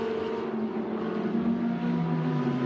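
Lamborghini and Audi race cars battle during the Sepang 12 Hours endurance race, a steady, droning engine roar whose pitch slides gradually lower.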